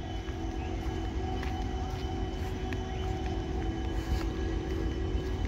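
A train runs beneath a road bridge, a steady heavy rumble of rail wagons with rhythmic clatter and a continuous roar, loud and close, with no talk.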